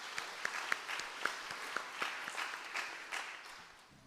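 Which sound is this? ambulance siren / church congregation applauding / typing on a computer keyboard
church congregation applauding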